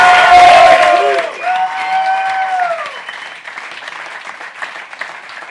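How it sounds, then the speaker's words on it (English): An audience applauding Dan Green and his team, a cheer and whoop at the start giving way to sustained, gradually thinning clapping from a crowd. "that was a round of applause, but one more time for Dan Green and his dream team"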